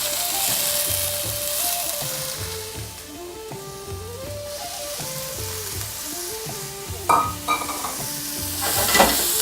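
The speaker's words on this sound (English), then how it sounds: "salt, and just stir fry." Fennel seeds, thoran mix, lime and fresh ginger are stir-fried in a pan, a continuous close sizzle with steady stirring and a few brighter scraping bursts toward the end, without voices.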